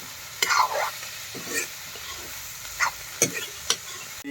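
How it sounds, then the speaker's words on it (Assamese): Shrimp frying in a pan with onions and green chillies, a soft steady sizzle broken by a few sharp scraping stirs, close and fairly quiet. "এতিয়া পিঁয়াজ দি ভাজি আছোঁ মিছা মাছটো।"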